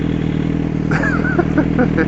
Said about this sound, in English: My exhaust on this bike, I have a 2 Bros exhaust